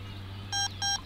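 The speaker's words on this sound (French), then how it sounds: "Il y a une autre tonalité pour les touches lentes" An electronic catfish bite alarm gives two short, bright beep tones in quick succession, each lasting about a tenth of a second, over a low steady hum.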